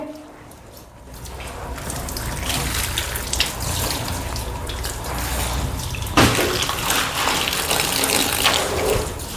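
Water rinsing detergent out of freshly washed clothes, a steady loud gush that runs the whole time, with a sharper splash partway through.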